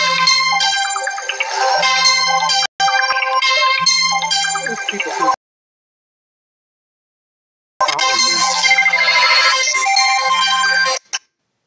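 A Motorola "Hello Moto" phone ringtone plays loudly in two bursts of bright repeating tones with a low pulsing figure underneath, separated by a couple of seconds of silence, then cut off abruptly.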